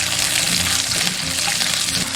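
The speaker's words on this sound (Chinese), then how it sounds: "油热过后下入葱姜炒香" Scallion and ginger sizzle in hot cooking oil in a wok, a loud steady crackling fry with no voices.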